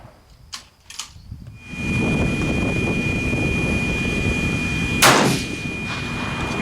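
A single sharp report as a rifle fires a 7.5x55 Swiss GP11 cartridge outdoors, set against a steady roar of wind or background noise and a thin whine.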